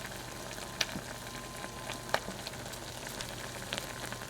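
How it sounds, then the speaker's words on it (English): Cranberries boiling in a pot give off sparse, sharp little pops and cracks over a steady bubbling sizzle, with a few crisper snaps standing out near and clear. "you can actually hear them pop when they crack. It sounds like popcorn."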